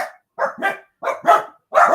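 Dogs bark close and loud, about six sharp barks arriving in quick uneven bursts over two seconds, with no talking.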